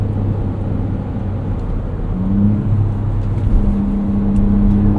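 A 2024 Ford Ranger Raptor truck pulls hard under acceleration, its engine a steady, loud low rumble heard from inside the cab, rising slightly in pitch partway through with no talk.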